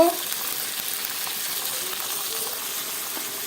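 Peas and tomato sautéing in a pan with salt and turmeric for a Bengali vegetarian dish, an even, loud sizzle and hiss from start to finish, with a brief clink at the outset and no talking.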